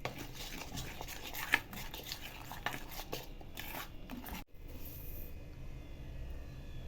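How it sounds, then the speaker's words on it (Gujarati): A spoon stirs besan batter with curry leaves for potato pakoras, giving soft, irregular scraping and sloshing in a bowl at close range, with one sharper clink partway through and a quieter tail. "બરાબર મિક્સ કરી દઈશું।"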